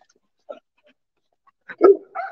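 A dog near a litter of puppies gives a few short close whimpers and yelps, then a louder cluster of barks and whines toward the end.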